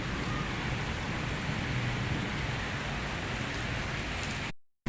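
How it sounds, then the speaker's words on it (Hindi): Heavy rain driven by strong winds, a dense, loud, steady roar of downpour heard from indoors, continuous until it cuts off abruptly at the end. "बाहर बहुत ज़्यादा बारिश हो रही है"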